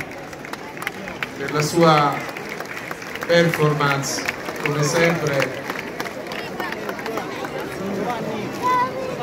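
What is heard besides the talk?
crowd applauding a performance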